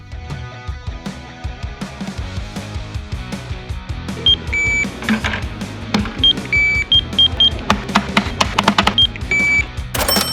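A Home Depot self-checkout card reader emits several short electronic beeps amid busy store clatter and background machine noise, close and moderately loud, with no talking.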